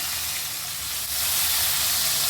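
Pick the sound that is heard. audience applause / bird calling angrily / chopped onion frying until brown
chopped onion frying until brown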